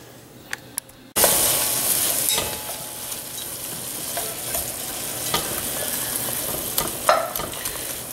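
Onions, carrots and celery sizzling in olive oil in a pan, a steady frying hiss that starts abruptly after a few faint taps, with occasional scrapes and stirs of a utensil throughout.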